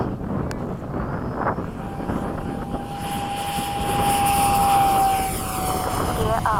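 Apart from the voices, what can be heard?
aircraft taking off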